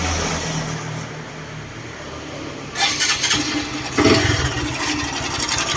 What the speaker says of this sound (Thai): เสียงเครื่องยนต์ดังประมาณนี้นะครับผม ตกแก๊กตกแก๊กแบบนี้นะครับผม